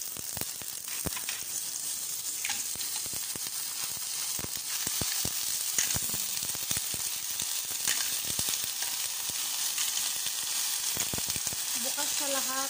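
Clams sizzle and fry in a hot pan, a continuous hiss dotted with sharp crackles and pops, with occasional clinks and stirring, fairly close and steady throughout.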